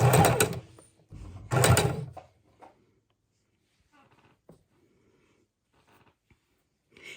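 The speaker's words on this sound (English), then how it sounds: "sew them down, lock stitch it at the end" A sewing machine stitches down fabric scraps in two loud, close bursts of whirring, then goes quiet apart from faint handling clicks and rustles.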